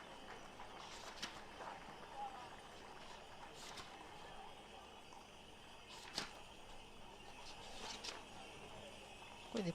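Horse hooves clip-clop at a Sardinian carnival parade during the Festa del Redentore in Nuoro, heard as sparse sharp knocks at a middle distance over a busy crowd murmur, with voices in the background.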